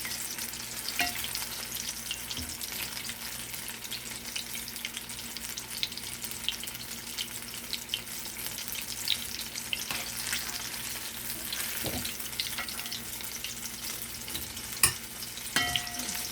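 Homemade apple fritters frying in a pot of oil, a steady crackling bubble that runs throughout with occasional sharper pops and light utensil taps, fairly quiet and without voices.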